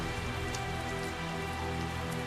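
Steady rain patters on surfaces in the Tales of Zestiria video game, a dense, even downpour that stays constant throughout with no voices over it.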